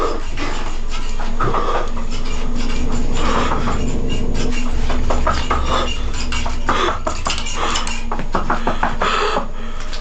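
A dog pants and whimpers indoors in a loud, close, continuous stretch of quick breaths with brief high whines, alongside faint clinks like dishes or a bowl.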